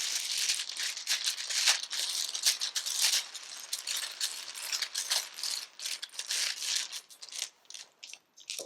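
Dice rattle and clatter in bursts during a Roll Player board game, a bright, close shaking and tumbling sound repeating for several seconds with brief pauses.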